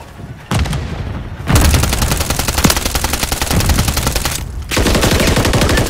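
Call of Duty: Modern Warfare 3 multiplayer gunfire, loud rapid automatic bursts with rattling repeated shots, a brief pause, then sustained firing resuming, close and dominant.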